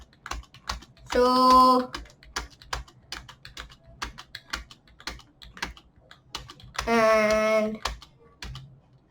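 Keys on a computer keyboard click in scattered bursts of typing, close and crisp, while someone speaks briefly twice over them.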